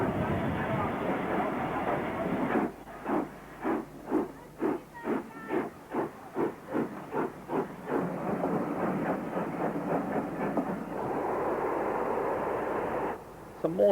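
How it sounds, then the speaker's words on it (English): A British steam locomotive of the 1950s or 1960s passes through Stafford station, loud rhythmic chuffs beating close by in a steady run before easing into a broad steamy hiss. "Some more trains at Stafford."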